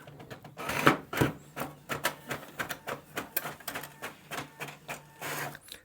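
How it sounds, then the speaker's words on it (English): A Brother MFC-J1170DW inkjet printer running a print job: quick, rhythmic mechanical clicks and clacks of the print head and paper feed, close and clear, repeating steadily with no voices. "This printer prints very fast"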